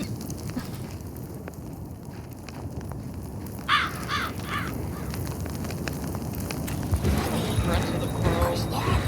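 Crows caw in the video game One-Eyed Likho, a few harsh calls standing out over a steady ambient game backdrop, moderately loud and close, with a voice talking through much of it.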